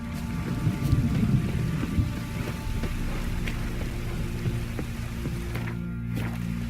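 Steady rain hissing on a surface, continuous and moderately close, with low rumbling tones underneath and no talking.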